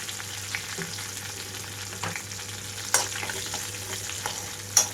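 Cumin seeds, curry leaf sprigs and a pinch of asafoetida sizzle in hot tempering oil, a continuous close frying hiss with scattered sharp pops and crackles and a low steady hum underneath.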